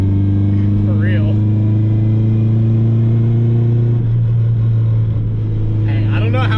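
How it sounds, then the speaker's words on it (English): A Subaru WRX with a noisy, worn 5-speed transmission drives along, giving a loud steady engine drone with strong low hum that shifts pitch partway through, while a person talks over it. "Transmission just sounds bad."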